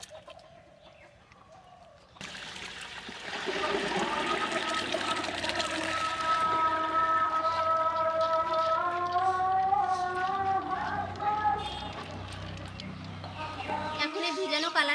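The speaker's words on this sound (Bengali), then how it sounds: "এখন এই ডালের জলটা ঝরিয়ে নেব।" Water drains and splashes steadily from soaked kalai lentils, a continuous trickling rush lasting several seconds, with bird calls in the background.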